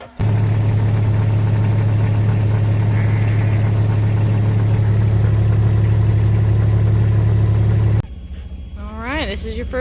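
Inside the cab, a truck engine drones at a steady idle, loud and low. Near the end the engine sound drops, and high puppy whines and yelps rise over it.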